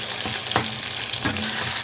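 Ginger and green chillies frying with potatoes in a pan, a close steady sizzle with a couple of stirring scrapes.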